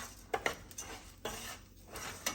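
Spoon scraping and clinking against a pot while garlic herb seasoning is stirred into cooking food, a few sharp close knocks over a quiet kitchen background.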